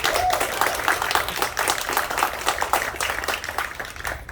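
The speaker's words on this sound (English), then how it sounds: "One more big round of applause for Brett" A crowd applauds at a city program announcement event, a steady dense patter of many hands clapping that carries on evenly throughout without speech.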